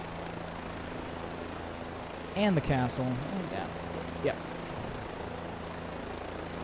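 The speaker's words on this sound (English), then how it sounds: "keep the helicopter in frame" A helicopter flying in Microsoft Flight Simulator over Magic Kingdom: a steady, broad rotor and engine drone fills the background throughout while a person talks briefly over it.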